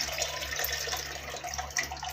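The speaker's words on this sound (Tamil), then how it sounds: "ஜாரில் புளி தண்ணியை சேர்த்துடலாம். அப்படியே அழைச்சி ஊற்றிக்கிடலாம்." Tamarind water pouring from a jar into a pot for fish curry, a steady, close liquid splash and trickle running continuously, with a low hum beneath.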